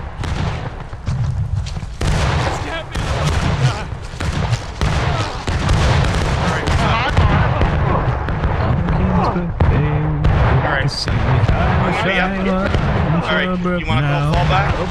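Gunfire cracks and booms repeatedly across a Civil War battlefield game, loud and continuous, with players shouting and talking over the shooting throughout.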